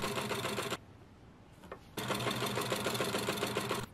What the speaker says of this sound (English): stitched it closed with a straight stitch 1 cm down from the fold